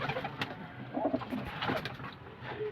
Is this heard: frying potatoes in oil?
no